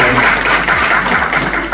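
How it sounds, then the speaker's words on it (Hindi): Loud audience applause at a teachers' training programme in Ramban, Jammu and Kashmir, a dense close burst of clapping filling the whole moment. "अंजना बेटी के लिए जोरदार ताली हो जाए।"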